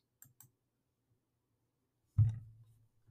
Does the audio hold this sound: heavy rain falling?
no